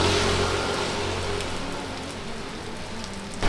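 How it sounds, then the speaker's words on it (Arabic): Heavy rain pours steadily in Bali, Indonesia, a dense loud hiss on surfaces that holds almost unchanged for the whole stretch, with a faint low hum beneath and a sharp knock at the end. "نفس الدقيقة اللي أنا كنت أصور فيها شوفوا المطر الحين شو صار قوي"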